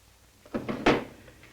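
A desk drawer is pulled open and rummaged through, giving a few close wooden scrapes and knocks that peak in one louder slide before trailing off quietly.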